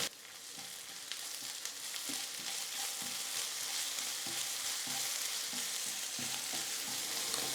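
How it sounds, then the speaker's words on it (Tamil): Onion with ginger garlic paste frying in a pan, a steady loud sizzle with periodic soft scraping as it is stirred, no voices. "இஞ்சி பூண்டு விழுது சேர்த்து 1 நிமிஷம் நல்லா வதக்கிக்கலாம்."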